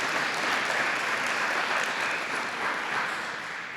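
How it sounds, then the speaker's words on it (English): A round of applause from the crowd at an elementary school ribbon-cutting and plaque ceremony, dense and steady clapping that holds strong for a few seconds before easing slightly. "let's give her a round of applause too"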